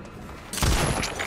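A Deathslinger speargun shot fires in a Dead by Daylight tournament match: one sudden, loud burst that starts abruptly partway through and stays fairly full before easing a little.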